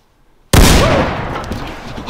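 A mallet blaster fires a single loud, sudden movie-effect shot out of silence, a sharp booming blast that rings out and slowly decays over the following second and a half.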